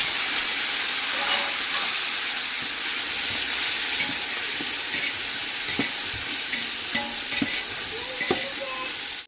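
Tomatoes frying in a large pot of chicken biryani base, a loud, dense, continuous sizzle with stirring scrapes and occasional clinks, close and steady throughout.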